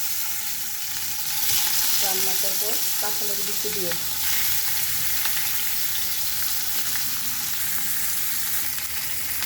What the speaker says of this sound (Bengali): এখন আমি মাছগুলো ভেজে নিয়ে